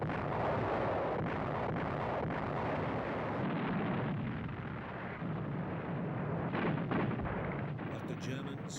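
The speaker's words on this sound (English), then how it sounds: "In desperation, the Allies bombed the historic monastery on the summit." Heavy Allied WW2 bombing of the historic hilltop monastery, a continuous rumble of explosions and artillery-like blasts, loud and dense, with a few sharper bursts toward the end.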